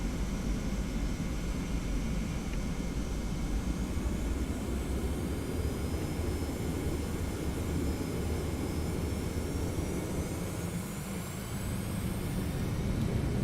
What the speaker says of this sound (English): Runway 2 clear for takeoff, Hawaiian 330.